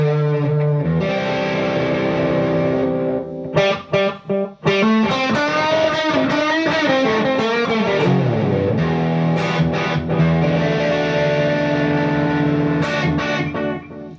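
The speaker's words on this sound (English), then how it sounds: "let's try out the reverb." An electric guitar plays sustained chords and bending notes through a T-Rex Magnus pedal's heavy reverb, the tones ringing out and trailing off in a wide wash.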